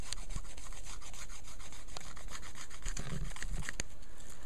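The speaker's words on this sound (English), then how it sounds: "Something else that you can do is you can scrape it." A blade scrapes repeatedly along a dry plant stalk to raise fine fibres for fire tinder, a close, raspy rubbing in quick uneven strokes that continues throughout without talk.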